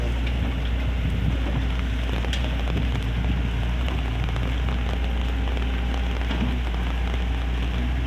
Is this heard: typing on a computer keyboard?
no